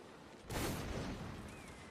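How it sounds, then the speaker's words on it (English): A single sudden blast of explosive gunfire in a Napoleonic Wars siege battle in Mount & Blade, a sharp boom followed by a decaying rumbling tail, moderately distant and heard alone. "Oh, explosions everywhere."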